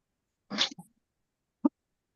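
One sharp sneeze bursts out, followed by a short sniff-like catch and then a brief click a second later, in an otherwise quiet room.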